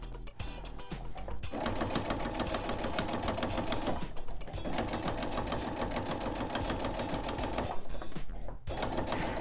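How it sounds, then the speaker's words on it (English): A sewing machine stitches around the edge of a fabric oven mitt, its needle running in a fast steady chatter at close range, with short stops between bursts of stitching. "And now I can simply sew around."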